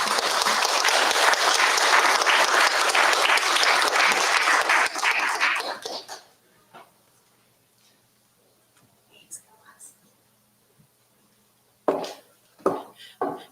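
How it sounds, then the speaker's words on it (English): An audience at a government event applauds steadily for about six seconds, then the clapping fades to near silence with a few faint knocks and movements afterward. "please give her a round of applause."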